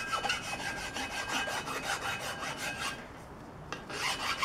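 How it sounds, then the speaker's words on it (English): A flat file rasps back and forth along raw metal edges in quick, rhythmic strokes, close and fairly loud. A brief lull comes near the end before the strokes resume. "I need to flat file off of these raw edges here"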